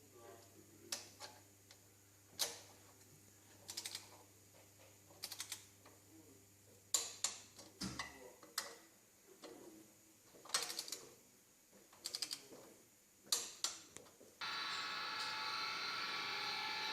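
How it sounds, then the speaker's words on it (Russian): Bolts being run back into repaired threads on spring thread inserts and torqued down, a series of sharp metallic clicks and ticks coming in short bursts at moderate distance, with a brief hiss of noise near the end. "закручивает по местам болты и обтягивает с теми же моментами обтяжки"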